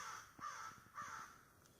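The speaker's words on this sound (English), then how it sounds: "Squawking very hard." A crow caws right overhead at a campsite, two loud, harsh caws close together followed by a fainter third call, in a quiet outdoor setting.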